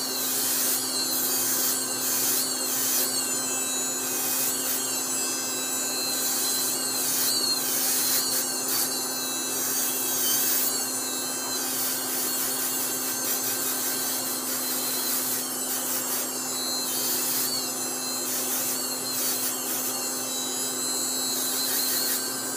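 A bristle brush loaded with metal polish works over a fixed metal orthodontic appliance, giving a continuous close, high-pitched whirring and rubbing with a steady hum and fluctuating scrubbing texture throughout.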